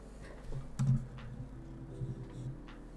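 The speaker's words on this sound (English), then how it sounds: "Let me move my keyboard just a little bit more." A computer keyboard shifted across a desk, giving a few soft scuffs and light knocks, one firmer bump early on, fairly quiet and close against a low background hum.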